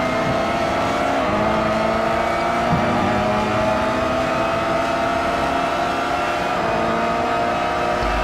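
A race car engine in a Gran Turismo 5 race at Cote D'Azur drones steadily and loud throughout, with shifting harmonic whine as revs rise and fall, alone without talk.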